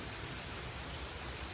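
Heavy rain pours down outdoors, a dense, steady hiss of drops striking surfaces that fills the whole short stretch without a break, fairly quiet in level and with no voices over it.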